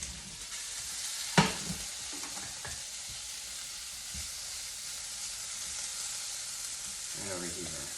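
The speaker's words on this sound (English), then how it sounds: "we see shrimp cooking on the stove" Shrimp cook on a home stove, giving a steady soft hiss of frying that carries throughout, with a few faint clicks and a brief knock near the start.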